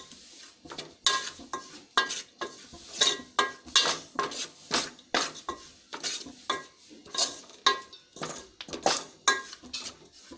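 A metal spoon scrapes roasted gram flour out of a pan onto a plate, making a series of sharp, close scraping and clinking strokes in an uneven rhythm with short pauses between them.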